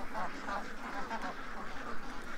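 Black or Swedish ducks keep up a stream of overlapping nasal quacks close by, a busy, fairly quiet chorus with no clear talk.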